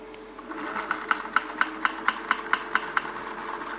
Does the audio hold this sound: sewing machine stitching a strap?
yes